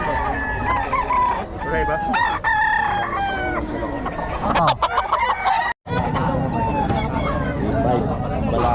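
A rooster crows repeatedly among clucking chickens at a chicken sale, with several people chatting nearby throughout.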